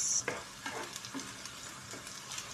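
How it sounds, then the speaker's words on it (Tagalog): Food being stirred in a frying pan, with scraping strokes recurring every half second or so over a steady close sizzle, no voices. "Haluin natin guys"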